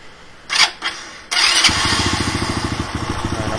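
Motorcycle with a repaired starter wire: two short starter bursts, then the engine catches and settles into a close, loud, rhythmic idle with a steady popping pulse.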